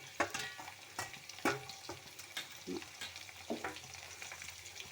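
Grated coconut roasts in a pan as it is stirred, with irregular close scraping strokes and soft crackling between quieter gaps.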